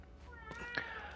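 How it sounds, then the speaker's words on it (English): A pet house cat lets out a drawn-out, wavering meow, fairly close and clear over a faint low hum, rising into a sharper peak near the end. "The cat's just loud."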